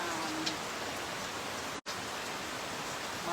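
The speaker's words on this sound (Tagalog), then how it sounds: "Ang lakas ng agos ng tubig sa labas" Rain falls outside with a strong rush of flowing water, a steady broadband hiss that carries through without a break except for one momentary dropout.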